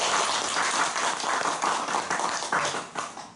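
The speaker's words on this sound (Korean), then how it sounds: "그럼 여러분 그 결정했다는 박수 한번." Dense applause from an indoor audience at a Korean community talk session, a steady wash of many hands clapping that holds at a fairly even level for a few seconds and tapers slightly at the end, with no voices.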